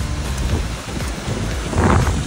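Randha waterfall at Bhandardara in Maharashtra during heavy monsoon rain, a dense, loud, continuous roar of rushing water with some wind buffeting the microphone.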